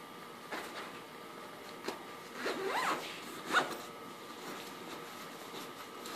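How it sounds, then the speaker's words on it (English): A zipper on an Oztent King Kokoda camp chair's carry bag is pulled in several quick, close, fairly quiet strokes, the clearest two rasps coming midway and another near the start. "Got two zippers."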